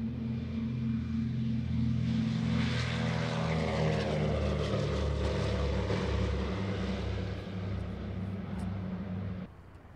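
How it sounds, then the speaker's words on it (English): The twin propeller engines of a DC-3-65TP airliner power up on a takeoff roll, a loud, steady, throbbing drone with a rising whine that holds for several seconds and then eases slightly, with no talk. "The tail is already up just as the power comes up on the engines."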